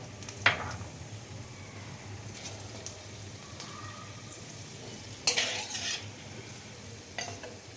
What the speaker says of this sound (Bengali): এবারে দিচ্ছি গোটা গরম মশলা